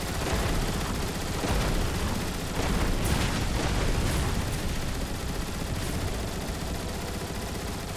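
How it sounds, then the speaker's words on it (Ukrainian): Gunfire in the video game Transformers: War for Cybertron: dense, continuous bursts crackle without pause, rapid automatic shots blending into a steady loud barrage. "Я не знаю, чи по ньому треба стріляти чи ні, але я стріляю."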